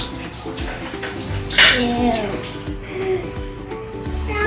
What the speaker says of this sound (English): I'm washing my hands.